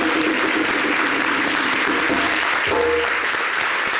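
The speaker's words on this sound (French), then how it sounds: "Je voulais vraiment qu'on applaudisse bien fort pour Kadi en lui souhaitant un fort rétablissement." Studio audience at a summer television show applauding for a person in hospital, sustained full applause from many hands, loud and continuous with faint voices underneath.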